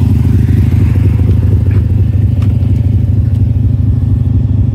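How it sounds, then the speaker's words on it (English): A rebuilt, fully warmed-up engine idles at 1400 RPM, a loud, close, steady low rumble with even mechanical pulsing and faint light clatter, no speech. "So it's fully warmed up right now, idling at 1400 RPM"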